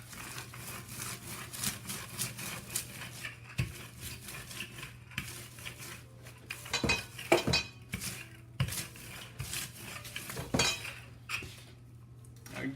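A metal pie pan is handled in a kitchen while preparing a gluten-free pie, giving a run of clinks, knocks and scrapes of metal bakeware and utensils over a steady low hum, with sharper bangs near the end.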